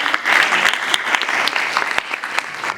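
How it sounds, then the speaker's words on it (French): Applause at an awards ceremony for contest laureates, a lively crowd clapping steadily with distinct sharp claps standing out, continuing at even strength for a few seconds. "on peut l'applaudir"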